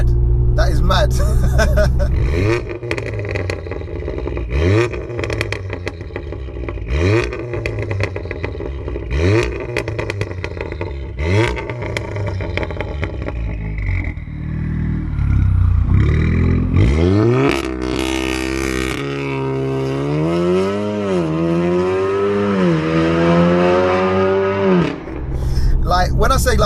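A 500bhp Littco stage 3 VW Golf R accelerates hard, its engine note sweeping up through repeated gear changes, then settling and climbing again in a long rising pull, with a voice talking over it.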